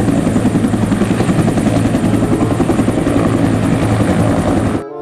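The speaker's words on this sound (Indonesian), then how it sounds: "Ini helikopter polisi." A police helicopter gives a loud, close, continuous rotor thump and engine whine that holds steady for several seconds before cutting off abruptly.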